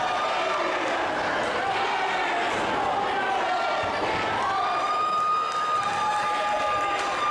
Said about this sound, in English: This crowd giving a massive ovation for Logan legit